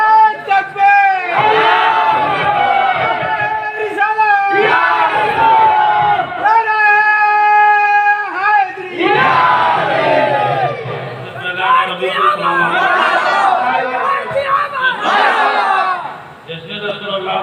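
A large crowd at a Milad un Nabi gathering in Semri, Bihar shouts a loud chanted response in repeated bursts, with voices swelling in unison, then breaking into cheers and overlapping calls.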